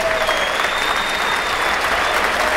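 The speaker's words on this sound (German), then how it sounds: "Applaus" Loud, continuous applause from an arena crowd for boxer Danny Williams after his fight with Luan Krasniqi, a thick unbroken roar of clapping with a faint whistle-like tone drifting through it.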